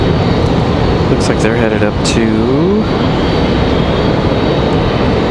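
A Spirit Airlines plane takes off at Raleigh-Durham International, its loud, steady engine roar filling the air while a person talks briefly over it.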